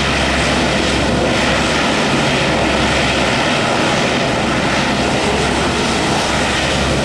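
A military aircraft taking off at a 1997 air show at Quonset ANG base, a loud, close, unbroken engine and propeller roar filling the whole stretch with no talk.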